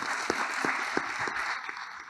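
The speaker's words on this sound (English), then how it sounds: "A round of applause for ELNAV." Audience applause at a startup pitch competition session, a short, moderately loud burst of clapping from a sizable crowd with a few distinct louder claps, no talking over it.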